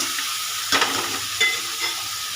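Chili, onion and tomato paste fry in a hot pan for a Bengali prawn dish, giving a steady broadband sizzle with two louder bursts as the mixture is stirred or moved around.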